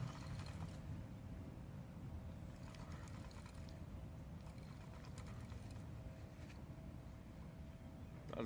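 A carp fishing reel's clutch screams as a carp takes line on a zig rig baited with pink foam, a steady mechanical whirring and ratcheting that runs continuously and close for the whole stretch with no talking.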